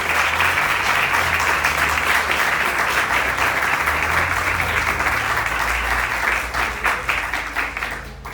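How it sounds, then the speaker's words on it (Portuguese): A church congregation applauds steadily during a family worship service, a dense, sustained round of clapping that carries on for several seconds before tapering off near the end. "Você pode receber o servo do Senhor com as palmas"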